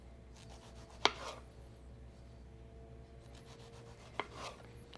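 A knife cuts medium tomatoes into quarter-inch slices, giving two sharp, distinct chops about three seconds apart against a quiet kitchen background.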